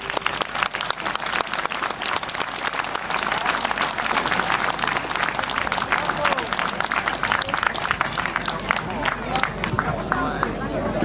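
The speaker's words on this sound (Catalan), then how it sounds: "un fort aplaudiment per a ells" A crowd at a havaneres singing concert in Manresa claps loudly and continuously in dense, sustained applause, with some murmuring voices mixed in.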